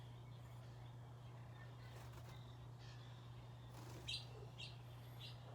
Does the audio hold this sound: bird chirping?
yes